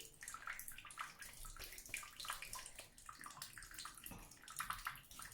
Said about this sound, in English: I like to get more of the front, make sure I wash it very nice.